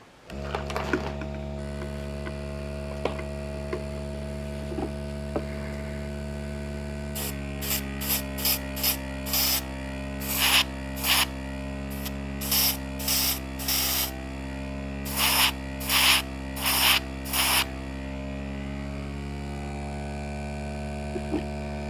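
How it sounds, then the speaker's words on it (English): An airbrush hisses in short, repeated bursts of AK Interactive Real Color paint onto a model aircraft wing, each spray pulse crisp and close over a constant low compressor hum. "Let's turn on the airbrush, and I'm going to go ahead and paint a section of the wing here."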